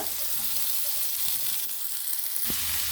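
Sliced onions frying in hot oil, a dense continuous hiss and crackle with a few faint utensil knocks, close and steady for the whole stretch.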